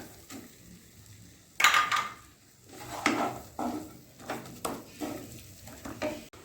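Prawn malai curry with coconut paste being stirred in a pan, with close, uneven scrapes and clanks of a spoon against the metal coming in several short bursts over quiet kitchen background.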